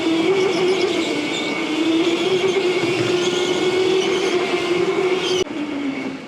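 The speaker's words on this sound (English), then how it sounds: "we got one outlap to race to the grid, and we're gonna be scrubbing the heck out of these tires" Race car on a warm-up outlap, scrubbing its tires on the way to the grid: a loud, steady engine drone heard from inside, holding one pitch with a slight shift near the end, no talk.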